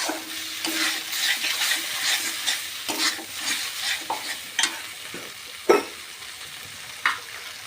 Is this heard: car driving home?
no